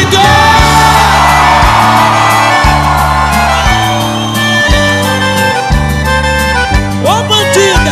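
A live sertanejo concert crowd in Goiânia shouting and screaming over loud band music with a steady bass and drum pulse, voices whooping and yelling continuously throughout.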